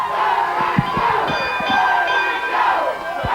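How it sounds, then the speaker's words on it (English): Wrestling ring bell ringing at a USWA event, several sharp bell strikes with sustained ringing tones over a loud, cheering arena crowd. "We got the ringing of the bell"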